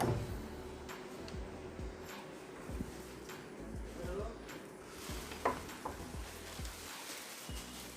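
Ginger frying in oil in a pan while cooking a traditional Jamalpur pithali dish: a quiet, steady sizzle with scattered light ticks and stirring clinks.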